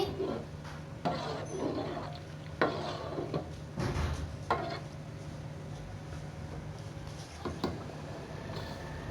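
Chana pulao with raisins being mixed in a pot, a spoon scraping and knocking against the metal in scattered bursts, fairly close, with quiet gaps between strokes.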